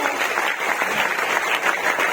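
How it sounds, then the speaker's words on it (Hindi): Audience applause at a Vestige business seminar, dense steady clapping from a crowd sustained throughout without breaks, loud and close. "अमित सर को, एक बार जोरदार तालियां मिल सकती है"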